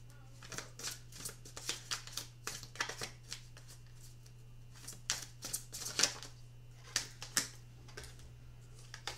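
Tarot cards are shuffled by hand close by in crisp, irregular riffling bursts, some louder than others, over a faint steady hum with no talk.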